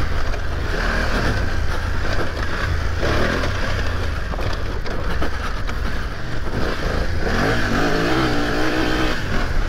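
A BMW F900 GS Enduro motorcycle engine drones loudly and steadily while riding off-road, with rising and falling revs and wind rush throughout, no talk.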